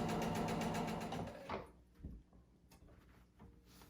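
A sewing machine stitches a dress seam in a fast, even run of needle strokes, then stops after about a second and a half, leaving quieter handling clicks and fabric rustle.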